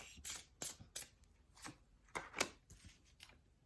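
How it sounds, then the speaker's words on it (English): A fresh deck of tarot or oracle cards being shuffled in a series of quick riffling bursts, each a crisp papery flutter, close and fairly quiet with no talking. "I'm going to shuffle a little bit on camera just so you can see that it's fresh"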